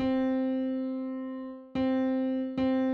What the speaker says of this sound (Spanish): Ahí tenemos un sonido de piano